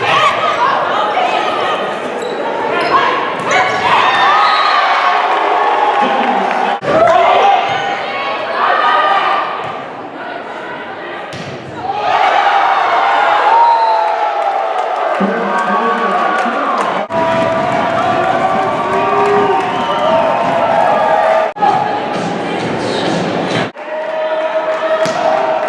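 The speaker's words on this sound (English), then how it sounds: "A raucous crowd was on tap for this event as they took on Colorado Christian." A raucous crowd cheers at a college basketball game against Colorado Christian, loud and sustained, with basketball bounces, sneaker thuds and a voice talking over the din.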